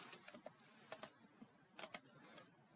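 Keys clatter on a computer keyboard while entering a formula in an Excel spreadsheet, a few quick bursts of close, light clicks separated by brief pauses, with no voice.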